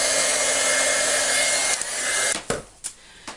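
Heat embossing tool blowing steadily to melt embossing powder in a craft project, a close, loud airy whoosh that cuts off and leaves a few small clicks and taps.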